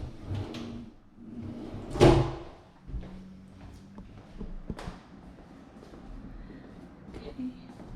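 Drawers in an apartment bathroom cabinet opening and closing, with a sharp wooden knock and a slide, then lighter thuds and rattles, close by, while someone talks.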